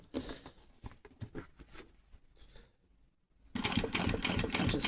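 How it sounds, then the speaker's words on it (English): A sewing machine stitching a motorcycle seat cover, running in short bursts of rapid clatter at first, pausing briefly, then running loud and continuous, close up with no talking. "So a couple of stitches forward, a couple back, that just locks it all together."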